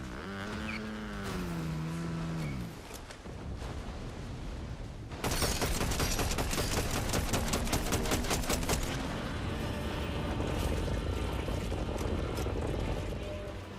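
Video game gunfire from an online shooter, with dense rapid shots that grow louder and steadier partway through, close and sustained over a busy game background, with a person briefly talking early on.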